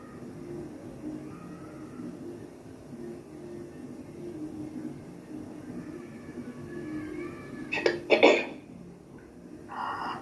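A couple of sharp, close coughs break through near the end over a low, steady background hum.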